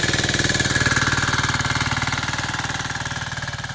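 A diesel-powered Phantom mini cultivator fitted with a ridger runs steadily at close range, its engine thumping out a fast, even knock that carries through the whole stretch with no voices.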